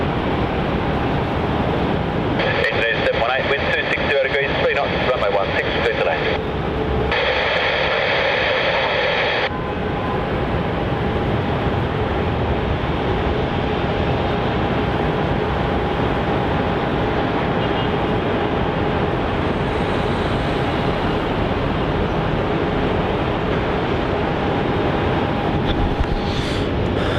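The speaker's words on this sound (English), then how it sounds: "A330 for Garuda, now arriving on runway 16 as GA718." A Garuda Airbus A330 airliner arriving on runway 16 at Melbourne Airport, a continuous distant engine roar sustained across the whole stretch, with a brief higher-pitched band of noise early on.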